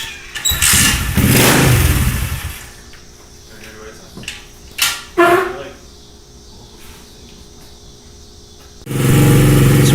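An SSR 125 pit bike with a carburetor problem being started: bursts of cranking and sputtering, a few brief pops, then the engine catches and runs loudly near the end. Voices talk in between.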